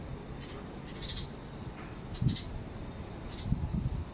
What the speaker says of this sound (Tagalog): Meron tayong ibon.